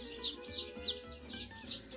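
Baby chicks, Buff Orpington and Barred Rock, peep in a steady series of high, bright chirps, close by and fairly loud, with no talking.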